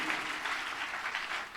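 Church congregation applauding together, a dense, even burst of clapping that holds steady and fills the room for a brief moment.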